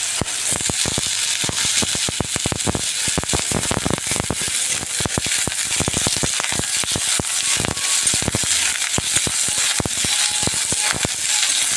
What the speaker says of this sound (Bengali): আলুগুলো দিয়ে ভেজে নেব